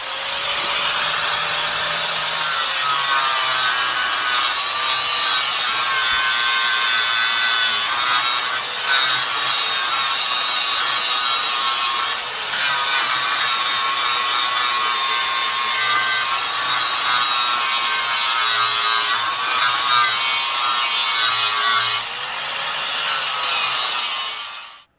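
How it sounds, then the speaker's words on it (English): Metal is shaved off an engine part for an engine build, a continuous grinding power-tool whine with rasping, sawing strokes that runs close and loud for over twenty seconds before cutting off. "you just saw me shaving off a little bit of metal so that that could fit"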